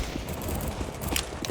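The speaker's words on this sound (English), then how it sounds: "I'm throwing a flashbang." A flashbang grenade in Counter-Strike: Global Offensive goes off amid a busy mix of game gunfire, with sharp bursts and crackling pops in the last half-second.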